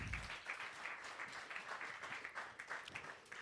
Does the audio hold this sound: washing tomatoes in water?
no